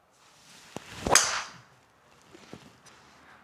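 A Titleist GTS driver strikes a golf ball in one sharp, close crack, with a swish of the swing around it and a few faint clicks afterward in a quiet setting.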